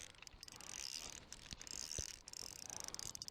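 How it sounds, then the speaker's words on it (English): A fishing reel's drag clicks in rapid ratcheting bursts while a perch is played from a kayak, fairly faint and steady with brief pauses, with no voices. "I'll loosen the drag a bit."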